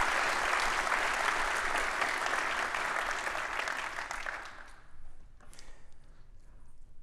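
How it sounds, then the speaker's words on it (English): Conference audience applauding loudly, a thick wash of many hands clapping that holds steady for several seconds, then thins and fades out, leaving a few scattered claps and quiet room noise. "it would also be great to give a huge round of applause to them."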